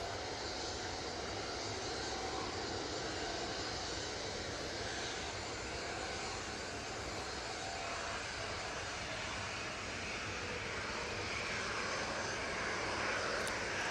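Jet airliner taking off from Manchester Airport bound for Stockholm, a steady broad engine roar held at even loudness throughout, distant and continuous with no talk over it.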